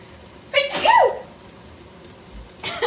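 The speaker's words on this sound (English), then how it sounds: "I feel a sneeze coming on." A single close, loud human sneeze bursts out while cooking keto gumbo, set off by pepper and seasoning, followed by a moment of quiet and a brief breathy sound.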